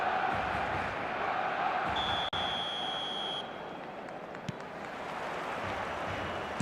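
Stadium crowd in the eFootball 2026 video game, a broad continuous roar of massed fans with a brief whistle-like tone, steady and loud throughout without clear speech.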